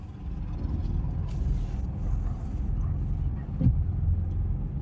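A car on the road during a beginner driving lesson, low steady engine rumble throughout as it drives and turns, with a brief brake-like hiss near the end and faint voices in the background.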